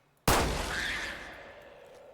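A single loud gunshot from the Fallout 4 video game cracks out sharply, then its echo rolls away and slowly fades over about two seconds, with no voices.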